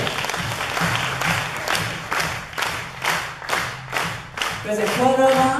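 Audience clapping at a live rock band performance, a steady wash of many hands in rhythmic surges that fades near the end as a voice and some tonal sound come in.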